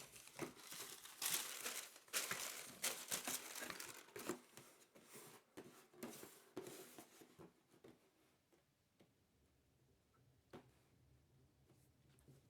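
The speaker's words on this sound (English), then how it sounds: "And peel back that wrapping paper once again" Wrapping paper crinkles and rustles loudly, close up, as it is peeled back from a Nike SB Alleyoop shoe in its box, a dense run of crackles that thins out and fades to quiet near the end.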